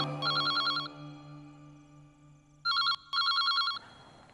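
A telephone rings in bursts of rapid, trilling electronic chirps, with one longer ring and then two more after a gap, loud over a low sustained musical drone.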